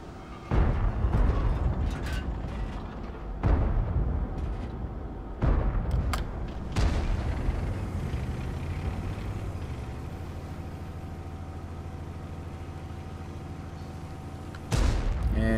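Heavy tank cannon blasts and explosions in the World of Tanks game, in a battle around a Maus tank: about five deep booming shots spaced several seconds apart, each trailing into a long rumbling roar, with no talking.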